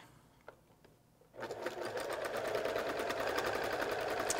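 A sewing machine chain piecing a checkerboard star quilt block starts up after a quiet moment with a few faint clicks, then runs in a steady, continuous whir to the end.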